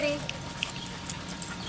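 Dogs in a training class whimper and yip in short, high bursts while collars or tags jingle, all faint and close against a murmuring room background.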